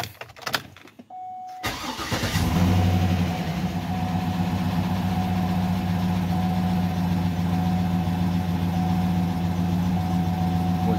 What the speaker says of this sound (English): So let me go ahead and start the engine back up.